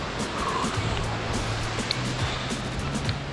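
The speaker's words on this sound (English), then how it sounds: "down under the waterfalls." Waterfalls in the Lake District pour in a steady, loud broadband rush that fills the whole clip, with a low hum running beneath it and no voices.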